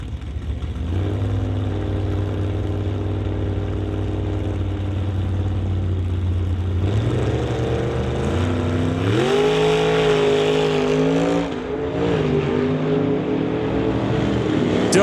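A Bel Air and a Chevy II drag race cars rumble at idle at an NHRA Summit ET Series drag strip, then rev and launch around seven seconds in, their engine roar climbing in pitch through shifts as they pull away.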